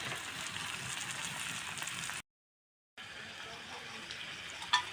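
Garlic fries in a small pan in a mini kitchen, giving a steady soft sizzle and hiss that cuts out briefly and then resumes, with a faint tap near the end.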